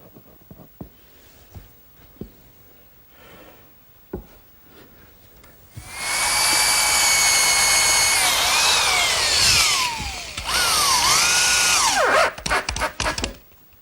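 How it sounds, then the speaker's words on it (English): A power drill drives screws into particle board and 2x4s with a long, loud whining run that rises and falls in pitch, pauses briefly, then resumes, after a few quiet knocks and handling sounds. "I'm just going to use a little bit of glue and some screws to fasten the 2x."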